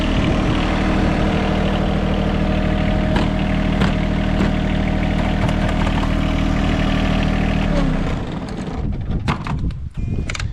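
A John Deere tractor's diesel engine idles steadily and loudly up close in a snowy, cold setting, then is shut off near the end, leaving quieter clatter.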